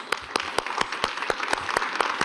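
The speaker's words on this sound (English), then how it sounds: "Give them a big applause" Sparse hand clapping from a small group after a panel discussion, a few distinct claps per second, steady and close, with no voices.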